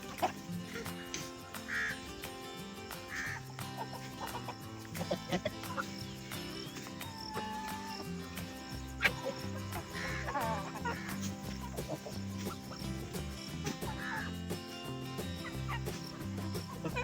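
Hens cluck and fowl squawk at a mini zoo feeding, with intermittent calls scattered over a steady outdoor background and occasional quacking-like notes among the birds.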